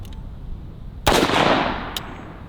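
A single loud, sharp crack of a 5.56 full power blank fired from a Daniel Defense Mark 18 rifle, close by, with a quick decaying echo and a faint click after.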